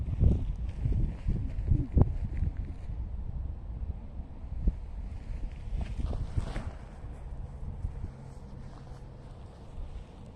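Steady low wind buffeting across an open winter disc golf course, a broad rumbling rush that swells and dips throughout with occasional louder gusts, fairly close to the microphone.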